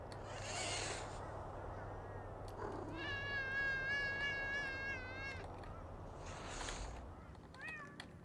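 Cats meow inside the video game Thirty Flights of Loving: a long, wavering meow dominates the middle, with shorter mews before and after, all over a steady low background hum.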